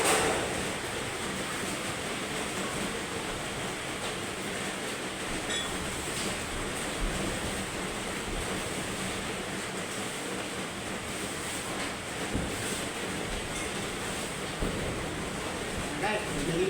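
Heavy rain pours steadily in Dasmariñas, Cavite, a dense, even hiss of water with no break, close and loud throughout.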